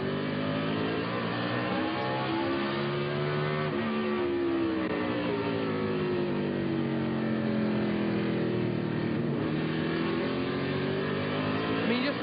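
Michael Walker's race car at the 2003 Virginia 500 revs as the throttle is picked up: a loud, continuous engine drone whose pitch dips and then climbs steadily, with no talking.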